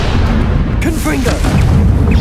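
A Confringo fire spell blasts in Hogwarts Legacy, a loud booming burst with a rumbling body that fills the whole moment, while a voice is heard over it.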